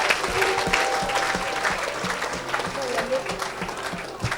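Congregation applauding and acclaiming the Lord at a church service, a steady, dense wash of clapping throughout with voices and a tonal cry mixed in.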